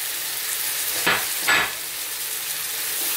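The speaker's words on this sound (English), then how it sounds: "Now I'm going to go in with some fresh tomatoes that I've chopped roughly" Roughly chopped fresh tomatoes hit a hot pan for a curry masala, with two quick bursts of loud sizzling over a steady background fry.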